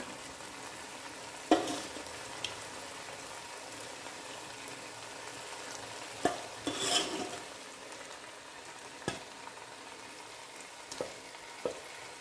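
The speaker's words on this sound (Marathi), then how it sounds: "आता हे मटण घालून घेऊया." Cooked mutton goes into a pan of frying Kolhapuri masala: a low, steady sizzle runs throughout, with sharp scrapes and clatters of stirring against the pan at irregular moments.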